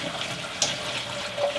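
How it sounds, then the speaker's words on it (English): Beef bourguignon cooking juice pours from a pot into a strainer set in a sink, making a steady, close rushing splash with a brief louder spatter near the middle. "pour in that juice"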